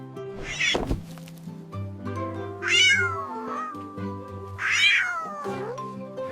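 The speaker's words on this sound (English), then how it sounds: "C for cat." Three drawn-out domestic cat meows, each rising then falling in pitch, spaced evenly and close by, with a soft thunk early on and no talking.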